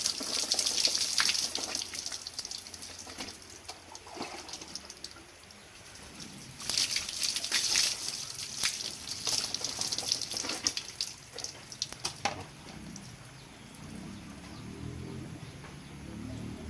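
Tap water runs and splashes steadily while a pet is bathed, pausing briefly partway through before gushing again, with no talking.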